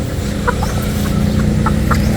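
Breeder chickens cluck close by, short repeated clucks over a dense, steady farmyard din.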